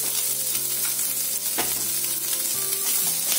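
Chicken fries in a pan with chili, coriander and turmeric powder, giving a loud continuous sizzle with scraping stirring strokes throughout and no talking.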